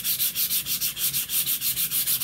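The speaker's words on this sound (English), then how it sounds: "we're going to sand this, but in one direction and one direction only." Painted wood sanded vigorously by hand with a sanding sponge in one direction, giving a brisk rhythmic scratching of about a dozen evenly spaced strokes, close and steady, with no talk.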